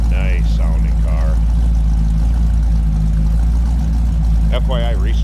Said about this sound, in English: There's that Hemi, nice sounding car.